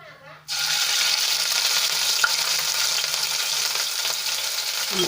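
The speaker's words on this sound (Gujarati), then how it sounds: "તેલમાં આપણે એને સાંતળી લઈશું" Ginger, garlic and green chilli paste sautéing in hot oil with cumin and a pinch of asafoetida for a Kathiyawadi dinner dish: a sudden steady, loud sizzle after a brief quiet start, continuing evenly with faint stirring.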